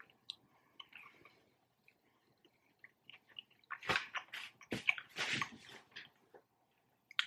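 Crunchy bites and wet chewing of a fried chicken sandwich from Popeyes or Zaxby's come in a cluster of loud bursts mid-clip, close to the mic, after a few quieter rustles.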